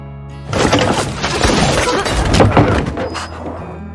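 A sharp, loud gunshot rings out amid a dense, noisy film soundtrack, with a burst of impact energy and a rumbling background.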